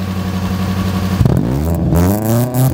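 A car engine idles with a steady low rumble, then revs sharply upward, drops back and rises again in loud, close bursts, with some mechanical clatter.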